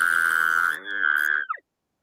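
A person's lips sputtering to imitate an elk cow call without a calling tube, a buzzy, nasal two-second tone that wavers and ends with a brief falling squeak, close and alone.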